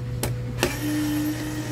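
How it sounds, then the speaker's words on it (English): A powered screwdriver unscrews a power supply board, giving two short sharp clicks followed by a steady, fairly quiet motor whine that holds to the end. "Let's unscrew the power supply board and remove it to see the other side."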